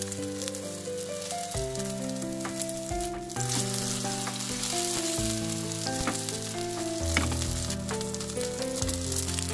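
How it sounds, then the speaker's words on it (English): Cucumber and leek pancake batter fries in hot olive oil, a loud steady sizzle and crackle that swells as more batter is spread in, with occasional utensil taps and no speech. "Cook and spread some mixed batter little by little when oil is heated hot"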